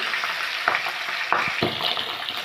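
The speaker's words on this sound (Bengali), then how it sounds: "এখন আমরা কাতলা মাছের মাথাগুলো প্রথমে ভেজে নিচ্ছি" Katla fish heads frying in hot oil give a steady, crackling sizzle, broken by a few sharp spatters and scrapes from a spatula.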